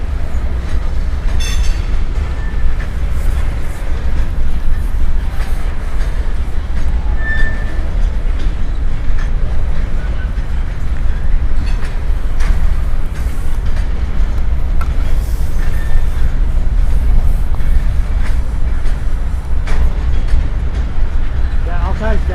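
Freight train rolling past close by at a rail viewing spot, a loud, continuous rumble with faint wheel squeals and rail clatter running throughout.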